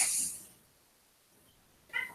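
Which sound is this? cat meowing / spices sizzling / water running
cat meowing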